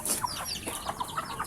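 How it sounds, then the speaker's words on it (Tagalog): Native chickens clucking nearby at a rural spot, a few short clucks and calls scattered over soft background noise, fairly faint and without speech. "Maingay yung manok."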